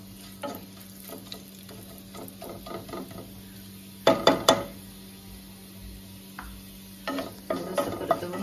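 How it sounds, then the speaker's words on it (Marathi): Cumin and white sesame seeds frying in a spoonful of oil in a hot kadhai, a soft continuous sizzle with a few sharp clinks of stirring. "जिरं थोडंसं फ्राय होऊन द्यायचं।"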